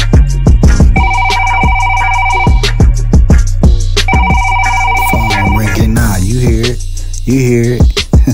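A phone ringtone rings in two long bursts, loud and close, between sharp percussive beats.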